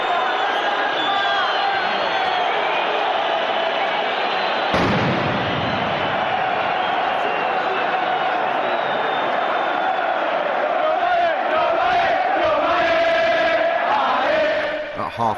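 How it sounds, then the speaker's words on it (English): A football stadium crowd during a Rome derby, with Roma supporters in their end, gives a dense, loud, unbroken roar that swells throughout, with a sharp bang near the middle cutting through the din. "After the goal, there was more crowd trouble."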